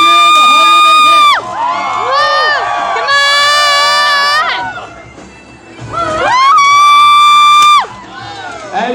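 Festival crowd at a Renaissance festival knights' sword fight cheers, whoops and shouts in loud repeated bursts, with a short lull in the middle before the roar swells again.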